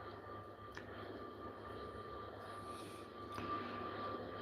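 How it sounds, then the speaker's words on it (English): A British Airways Airbus A320 departing Heathrow is heard as a faint, distant engine rumble with a low steady drone, and no one speaks over it. "it's an Airbus 320."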